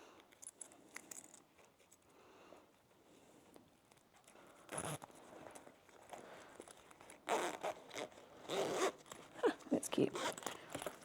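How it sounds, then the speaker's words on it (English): Metal zipper pulls are slid onto a zipper while sewing a wallet, making quiet scraping zips and small clicks that grow busier and louder toward the end. "And now I shall put my zipper pulls on."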